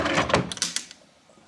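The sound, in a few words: hotel room bottom drawer opening and closing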